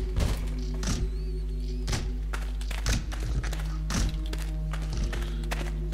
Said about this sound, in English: Hear you banging on the damn door.